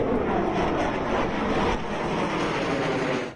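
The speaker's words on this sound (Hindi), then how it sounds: "भारतीय वायुसेना के कुछ लड़ाकू विमानों का हाईवे पर ट्रायल कराया गया।" Indian Air Force fighter jets on a highway airstrip near the Pakistan border give off a loud, continuous roar that holds steady throughout and eases off slightly toward the end.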